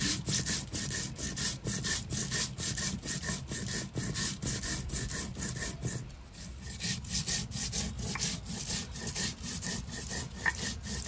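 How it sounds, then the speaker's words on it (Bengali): Cumin, coriander and green and dried chillies are ground into a spice paste on a grinding stone, making steady rhythmic rasping scrapes, close and continuous with a brief lull midway, and nobody talks. "জিরে, ধনে জিরেটা আগে বেটে নেবো, তারপরে কাঁচা লঙ্কা,"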